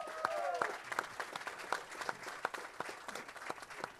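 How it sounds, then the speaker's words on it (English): Scattered applause from a modest indoor crowd at an Angus cattle sale in Berryville, Virginia; distinct individual claps ring out at a moderate pace, fairly faint, with some murmuring voices underneath. "Give him a big round of applause."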